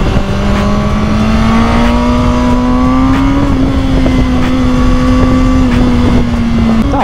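A Kawasaki ZX-6R motorcycle engine pulls hard in a loud, continuous, close-up whine that climbs slightly, then holds steady at high revs for several seconds.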